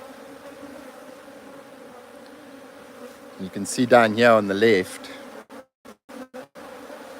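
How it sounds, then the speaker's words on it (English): A dense, steady buzz of many honeybees around a hive box at a bee sanctuary, with someone speaking close by partway through. "there's quite a bit of bees"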